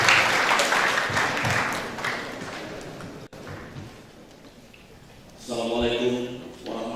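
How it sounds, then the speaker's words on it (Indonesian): Seminar audience applauding for the director of Politeknik Negeri Medan, a loud crowd clapping that fades out midway, after which a voice begins speaking over a quieter room. "Boleh tepuk tangannya buat Bapak Direktur Politeknik Negeri Medan"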